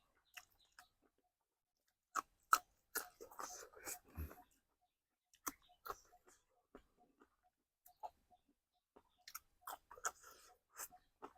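Someone chews tough meat, with irregular bursts of wet chewing and biting spread across the stretch, close and fairly quiet, separated by near silence.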